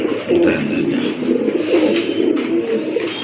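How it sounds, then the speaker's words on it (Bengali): Low repeated cooing comes from Iranian high flyer pigeons, a breeding pair, heard close with soft rustling and a dense background hum of other birds. "এই যে দেখেন কবুতরগুলো,"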